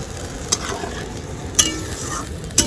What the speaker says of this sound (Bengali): এই মশলার মধ্যে এবার অল্প সামান্য আমি জল দিয়ে দেব।